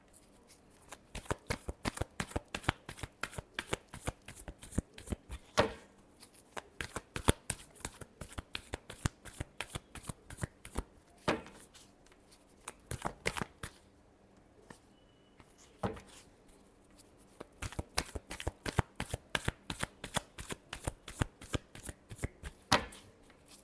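Tarot cards shuffled in long bursts of rapid, crisp riffling flicks, close and steady, with a couple of brief pauses between runs and no talking.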